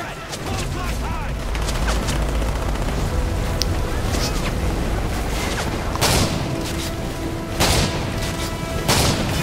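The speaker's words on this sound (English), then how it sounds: "I'm gonna switch to the shotgun." Gunfire in Modern Warfare 3 with a shotgun in play, a dense stream of shots and booms over constant battle noise, with several louder sharp blasts standing out near the end.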